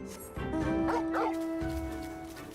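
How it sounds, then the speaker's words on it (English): A puppy in Final Fantasy XIV, appearing after a mount is dismissed, gives a couple of quick, high yipping barks over steady game background music. "whenever I dismiss my Torgal mount, he just turns into a puppy"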